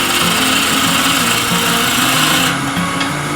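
Skew chisel making a planing cut on a spinning wood lathe, a loud continuous whirring hum with a steady scraping texture, close up and unbroken, easing slightly near the end, with no talking.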